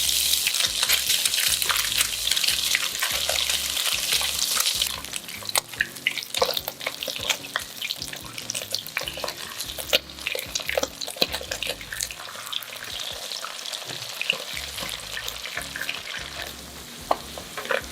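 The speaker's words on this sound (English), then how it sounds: "Then fry the tofu until golden brown." Tofu fries in a pan until golden brown, a steady, close hiss of sizzling oil with frequent crackles and pops, stirring and clinks of utensils running throughout without any talk.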